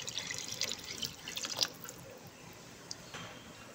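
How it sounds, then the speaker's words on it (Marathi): Water poured into paneer pulao in a pressure cooker, a soft trickling and splashing with a few small drips, fairly faint and close, with no talking. "आता याच्यात पाणी टाकून घेऊ।"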